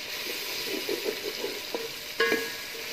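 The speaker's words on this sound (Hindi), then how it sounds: "अब मैं करूँगी इसको अच्छे से मिक्स।" A tomato and spice mixture for kofta biryani is stirred in a pan, making soft scraping strokes over a gentle sizzle, with a couple of sharper clinks near the end.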